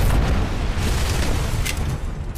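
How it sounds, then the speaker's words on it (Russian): A loud, close explosion in the video game RoboCop: Rogue City booms out as a dense, rumbling blast that slowly thins into a noisy tail. "Ну, взрывайся!"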